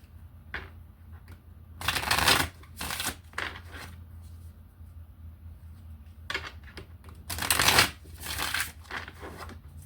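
A deck of tarot cards is shuffled up close, with two clusters of crisp riffling bursts separated by quieter handling and light card taps.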